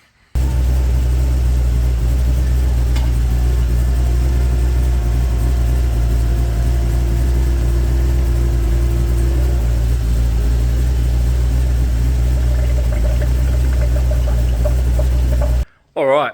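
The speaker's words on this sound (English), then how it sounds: "So just going to let it idle for a little bit so it gets some oil flowing through the turbo" A Ford XG ute's turbocharged engine idles, a steady low rumble holding a constant drone close to the microphone with faint mechanical ticking over it.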